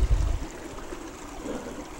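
Creek water pours over a hand-dug waterfall at a gold panning spot, a soft steady trickle and gurgle heard close, with a brief low thump at the start and no talk.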